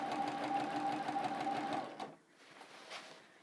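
A sewing machine stitches steadily through a quilted Solar Flares block, a dense continuous whir for about two seconds before the motor stops and only faint handling sounds remain.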